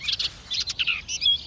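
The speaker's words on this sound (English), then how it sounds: "Sing now, birdie, sing the song." Cartoon birds chirping and singing, a run of quick high tweets and short trills in bursts, clear and close with no talking.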